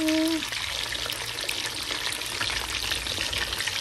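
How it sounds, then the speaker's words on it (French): Marinated fish frying in hot oil for a red tchep, a steady dense crackling sizzle that holds throughout, close and fairly loud, with a short tonal whine at the start. "j'ai mis le poisson dans l'huile. Je fais frire là. Regarde comme ça mijote."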